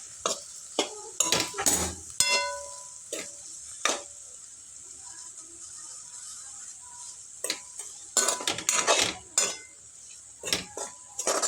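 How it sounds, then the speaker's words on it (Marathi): Spiced cowpea curry mixture stirred and roasted in a pan, with scattered metal spoon scrapes and clinks against the pan over a faint sizzle, in bursts separated by quieter stretches. "इथं मिक्स करून घ्यायचं आहे भाजून घ्यायचं आहे चांगलं तिखट टाकल्यानंतर"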